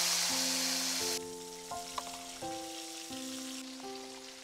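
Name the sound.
frying fish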